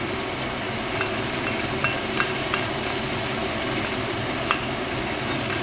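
Potatoes fry in hot oil as a watermelon-rind paste goes in and gets stirred, a steady close sizzle with occasional scraping taps of the spoon against the pan, without any voices.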